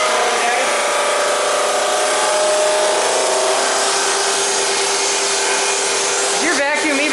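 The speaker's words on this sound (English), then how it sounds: "Is your vacuum even on?" A shop vacuum runs in a woodworking shop with a loud, steady whine and rushing air throughout, a voice briefly heard near the end.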